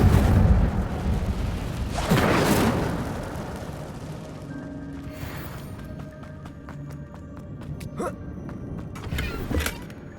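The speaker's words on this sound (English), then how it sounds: "Incendio." Incendio fire spell cast in Hogwarts Legacy, with a loud whooshing burst of flame up front and a second roaring flare around two seconds, then fading into quieter magical shimmer and scattered ticks.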